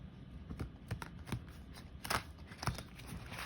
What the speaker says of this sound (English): let's shuffle another time for the future